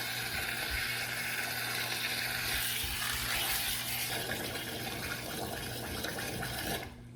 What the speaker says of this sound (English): And then we're gonna add some water.